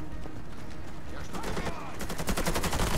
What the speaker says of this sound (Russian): Кто это здесь стреляет?